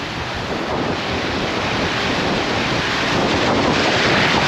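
Wind buffets a small boat at sea off João Pessoa, Brazil. Steady, roaring gusts blend with the rush of waves in an unbroken wash of noise, with no voices.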